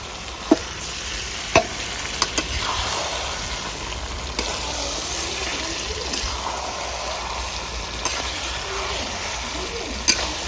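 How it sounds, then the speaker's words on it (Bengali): Chicken meat frying in oil with browned onion gravy, a steady close sizzle broken by sharp clacks of a spoon stirring and scraping the pan every few seconds. "এবার আমি মুরগি মাংসটা ঢেলে দেবো।"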